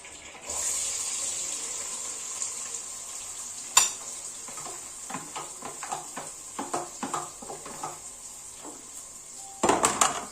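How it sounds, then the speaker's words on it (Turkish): Onions sizzle and fry in hot oil in a pan, a continuous soft hiss broken by stirring scrapes and clinks, with a louder burst near the end. "Soğanımız yağda iyice kavrulsun."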